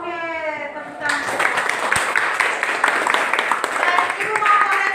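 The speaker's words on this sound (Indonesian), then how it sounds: "Oke, tepuk tangan." Classroom applause after a chemistry group presents its conclusion: a burst of many hands clapping starts after a short spoken line and keeps going steadily for several seconds.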